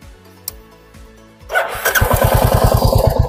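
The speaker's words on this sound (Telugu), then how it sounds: "ఇంకోసారి చెక్ చేసుకోండి బైక్ ఆన్ చేసి." A Royal Enfield Hunter 350 motorcycle engine fires up after a quiet moment with a faint click, then settles into a loud, close, steady thumping idle.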